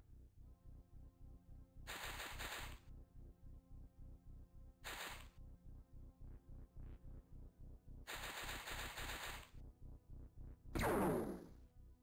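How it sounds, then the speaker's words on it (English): Soldiers' rifle fire in the OpenXcom strategy game, several separate rapid automatic bursts of gunshots with pauses between them over a steady rhythmic ticking game background, ending in a louder whooshing burst. "All of you guys, start shooting."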